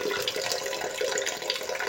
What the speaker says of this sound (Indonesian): Kita akan cuci bersih dengan air mengalir.